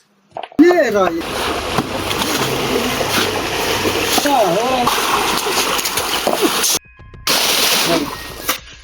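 Repeated splashing and sloshing as water is bailed out of a village stream to catch fish, with voices heard throughout and a short break near the end.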